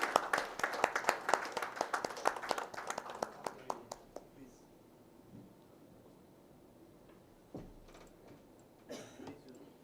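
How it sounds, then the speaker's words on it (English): A seminar audience at a hazmat panel discussion gives a round of applause, sharp scattered claps dense at first and fading out by about four seconds, followed by quieter talk and a few isolated claps. "Please give a big round of applause to Captain Dinesh Gautama"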